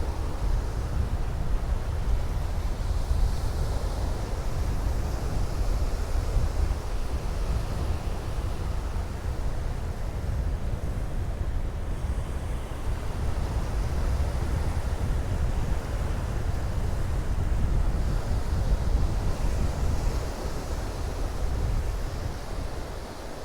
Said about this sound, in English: show you what these waves are actually like